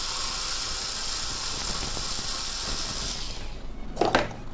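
A screwdriver ratchets steadily while a screw is backed out of the casing of an OTHO 9W inverter LED bulb, a close continuous clicking grind ending in a brief sharper scrape.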